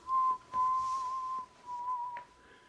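A person whistles a sad, sustained melody alone, with a clear steady tone in a few phrases and short pauses between them.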